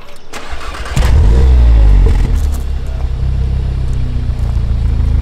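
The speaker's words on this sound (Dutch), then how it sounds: "ik zal even het gas indrukken. Even optrekken" A chiptuned car engine is revved up as the throttle is pressed. A loud, close roar surges, then settles into a rough, throbbing idle-like drone.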